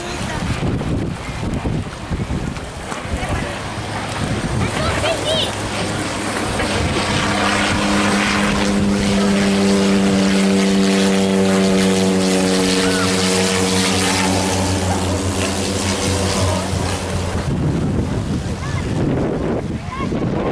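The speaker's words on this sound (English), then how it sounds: "another aircraft approaching." A jet airliner on final approach to land at St Maarten's Princess Juliana International Airport, its engine roar swelling loud and close over beach wind and surf, peaking overhead and then fading.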